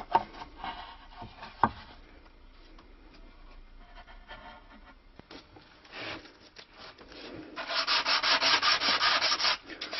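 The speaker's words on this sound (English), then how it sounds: "What we can do is pay slightly more attention when we're sanding to this edge around here." The wooden neck of a stick dulcimer with a glued-on fingerboard being sanded by hand, scattered light rubs at first, then a run of steady, rapid back-and-forth strokes growing louder toward the end.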